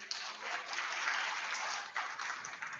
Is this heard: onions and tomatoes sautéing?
no